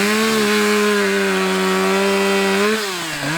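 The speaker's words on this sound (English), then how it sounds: "a sharpened chainsaw" A sharpened chainsaw roars close and loud at a steady high rev, its pitch dipping near the end as it bites into a felled tree.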